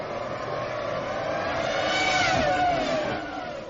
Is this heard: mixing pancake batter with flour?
no